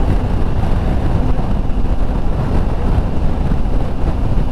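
Heavy wind buffeting from riding a Triumph Tiger 900 motorcycle with the windscreen in its lowest position: a loud, steady, low roaring rumble that fills the whole clip without a break, with no speech.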